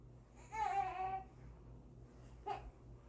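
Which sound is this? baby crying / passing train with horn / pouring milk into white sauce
baby crying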